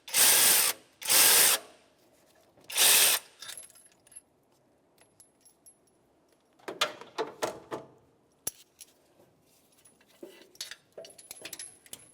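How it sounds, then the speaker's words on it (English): Three loud bursts of an electric ratchet loosening exhaust manifold bolts on a 1992-1996 Ford F-150 come close together, then quieter metallic clinks and taps of tools follow. "now I'm going to get the electric ratchet"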